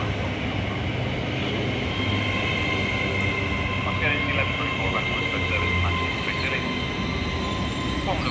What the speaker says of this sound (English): The Avanti West Coast Class French Pendolino to Manchester Piccadilly should be arriving on platform 6 at any second.